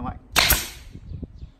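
U Total staple gun for motorcycle seat upholstery, test-fired once: a single sharp, loud snap near the start, followed by faint handling noises with no talk.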